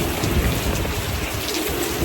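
Steady heavy rain pouring down outdoors during a rainy-season day, a dense continuous close hiss of drops on surfaces with no pauses.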